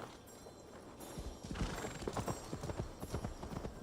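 A horse in the video game Assassin's Creed Valhalla gallops and neighs, its rhythmic hoofbeats close and loud, picking up pace and then thudding steadily under a faint game ambience with no talk.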